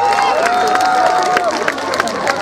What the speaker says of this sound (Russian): аплодисменты! Виталий и Влад.